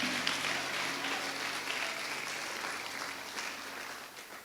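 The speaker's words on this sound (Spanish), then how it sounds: "Dale palmas al Señor." Church congregation applauding during a Spanish-language sermon on being protected in storms, a steady, dense patter of clapping hands throughout, fairly close and even, with no talking over it.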